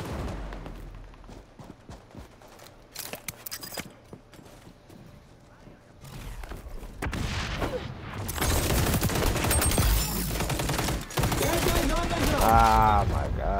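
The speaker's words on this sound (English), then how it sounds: "That was bad shooting." Gunfire in the online shooter XDefiant during a ranked match over a contested capture zone: scattered shots early, then dense continuous rapid-fire bursts, loud and close, with game effects and voices mixed in.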